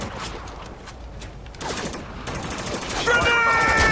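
Gunfire rattles in the Spec Ops: The Line video game: bursts of rapid shots and a louder fusillade crackle in close succession, mixed with game ambience and a speaking voice.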